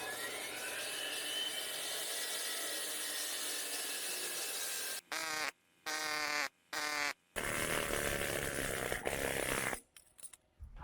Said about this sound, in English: I'll make another cut with a saw